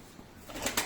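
Soft coos from racing pigeons in a coop rise toward the end of a short, quiet stretch, with faint rustling and a brief flutter-like burst.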